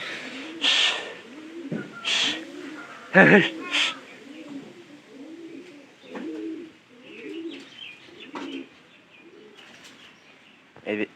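Repeated low cooing from a flock of pigeons runs throughout, with a few sharper chirps and calls breaking in over the steady murmur.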